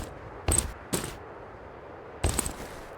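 Shotgun fire in the video game Escape from Duckov: three sharp, loud blasts, the first two close together and the third after a pause of more than a second, over a low steady background.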